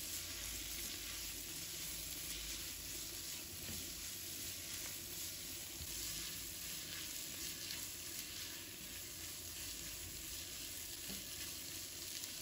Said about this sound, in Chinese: 继续大火炒1分钟就可以起锅